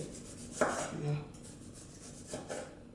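Knife thinly slicing tomato on a cutting board during home cooking, a few crisp chopping strokes close up, with quiet clattering between cuts and no talking.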